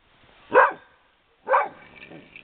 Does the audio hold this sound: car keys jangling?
no